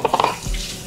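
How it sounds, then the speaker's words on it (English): A utensil clinks and scrapes against a bowl while stirring a batter mixture for baking, a few quick taps at the start giving way to a softer, duller swirl, close and brief. "You gotta finish stirring this."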